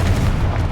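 Confringo blast spell from Hogwarts Legacy going off as a loud, deep explosive boom, dense low rumble sustained through the short burst with no voices.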